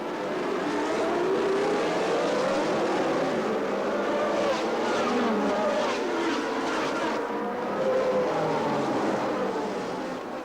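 A pack of 1982 Formula 1 race cars roars away at the start, a dense, continuous wall of high-revving engines with overlapping pitch sweeps as cars pass, loud and sustained with no voices.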